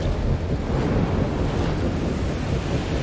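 Strong wind gusts roar steadily in a Guardians of the Galaxy video game, a loud, continuous rushing blast with a surf-like low rumble and no voices throughout.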